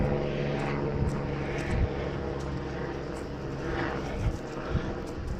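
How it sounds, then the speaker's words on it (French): Airplane passing overhead outdoors near a garden, a continuous broad engine roar sustained throughout at moderate level, with a few small knocks and rustles near the microphone and no talking. "Il y a un avion qui passe, je vais attendre 2 minutes."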